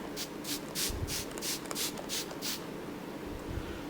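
Quick hissing bursts of makeup setting spray, about eight in a steady rhythm, puff out close by and then stop, leaving faint background noise.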